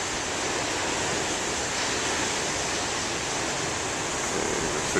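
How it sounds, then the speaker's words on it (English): Moderate ocean surf makes a steady, continuous hiss and wash, even and unbroken throughout, heard alone without voices. "since the waves are not all that big"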